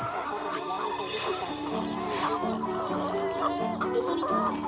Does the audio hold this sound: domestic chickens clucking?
yes